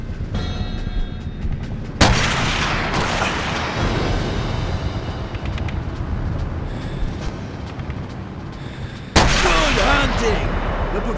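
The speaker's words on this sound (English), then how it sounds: "The patrols will surely have heard those shots." Heavy gunshots crack out in the Call of Duty: Modern Warfare 3 video game, two sharp, loud blasts several seconds apart, each followed by a long, booming echo and rumble.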